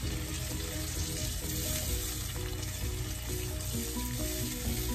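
A steady sizzling hiss fills the clip as water is poured into a frying pan while cooking matar pulao, with faint music playing underneath.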